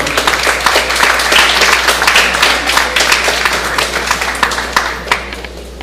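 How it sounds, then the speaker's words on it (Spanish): Applause from a conference audience for a doctor presenting on Peru's new labour procedure law, a dense, steady wash of many hands clapping close by, sustained without pause and no voices over it. "Fuertes los aplausos para el doctor"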